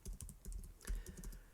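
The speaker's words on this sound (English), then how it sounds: "You can hear me typing there," Fingers tap on a computer keyboard in quick irregular bursts, a string of close, light clicks with a brief pause in the middle, heard alone and fairly quiet.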